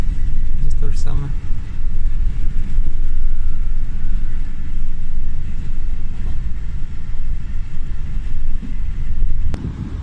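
An old German train running over the rails, a continuous loud low rumble and rattle from inside the carriage, heard close, with someone talking over it.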